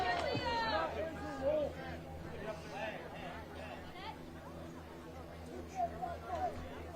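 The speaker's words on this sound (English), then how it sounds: "You hear the crowd hearing a little noise here as the freshman comes to the plate" Spectators at a high school baseball game, Cougars at the Martinsburg Bulldogs in West Virginia, raise a steady babble of cheers and shouts as a freshman steps to the plate, moderately distant, with a commentator talking over it.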